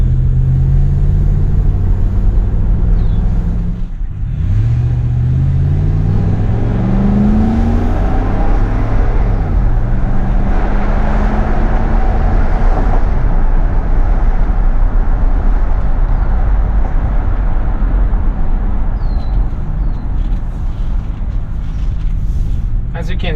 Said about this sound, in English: As you can see, as you can hear, brakes are working very good and the truck is very fast.